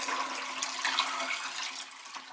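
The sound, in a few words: pouring colloidal silver water into a container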